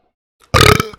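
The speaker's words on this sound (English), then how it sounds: "Burp." A single loud, close burp from a man, rough and gravelly, lasting about a third of a second after a brief silence.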